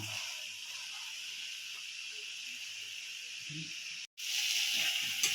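Spiced jackfruit tipped into a hot pan gives a steady, bright sizzle that holds evenly, cuts out abruptly near the end, then returns loud and close, with faint low murmurs beneath.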